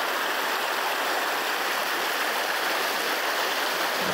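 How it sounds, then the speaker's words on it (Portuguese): A strong stream in a creek in Pau-D'arco, Maranhão, rushes over rocks in a steady, loud, close broadband roar that holds unbroken throughout, with no voices. "Olha a zoada da água aí, gente. Muito forte. Muita água mesmo descendo."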